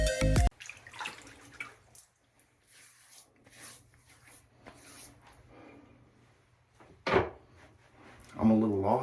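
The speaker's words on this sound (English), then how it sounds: "Real quick, I'm going to wet the face." Tap water splashes in a bathroom sink as a man wets his face before a shave, with a brief splash and then a louder burst of running water, between stretches of quiet talk.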